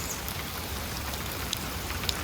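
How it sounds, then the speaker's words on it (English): Light rain falls steadily outdoors, a soft continuous hiss of drops with a few brighter taps standing out near the end. "Just thought I'd let you see what it looks like when we get a little bit of rain."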